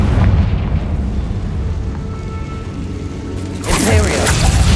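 A loud, rumbling blast from the Confringo spell in Hogwarts Legacy, a sustained low roar that swells into a sharper burst of debris near the end.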